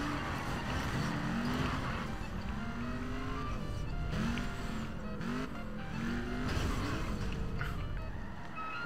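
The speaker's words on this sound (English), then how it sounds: "that guy's drifting" Race cars in FlatOut 3 revving and sliding through a drift, with steady engine drone and wavering tire squeal heard continuously from close by.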